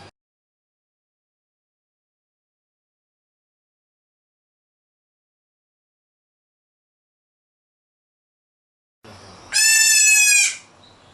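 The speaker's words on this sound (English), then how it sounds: "this is a male goat" A male goat on a food security farm project lets out a single loud, wavering bleat near the end after long silence, close to the microphone.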